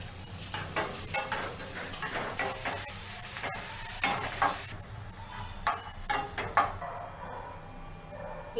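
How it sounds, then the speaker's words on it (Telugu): Onions frying with cumin seeds in a pan for a potato masala curry, a steady sizzle with repeated stirring scrapes and light utensil clinks throughout. "జీలకర్ర వేగిన తర్వాత ఉల్లిపాయ ముక్కలు వేసుకుని లైట్ గోల్డెన్ బ్రౌన్ కలర్ వచ్చేంత వరకు వేయించుకోవాలి."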